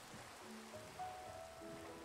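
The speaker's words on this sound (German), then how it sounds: "Also, wie oft regnet es denn hier?" Steady rain falling in the blocky sandbox game Minecraft, a soft, even patter of drops that holds at a low level throughout with no talk over it.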